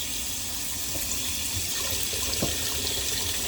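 Steady running water from a tap pouring into a cooking pot, a continuous hiss with a faint clink partway through, no talking.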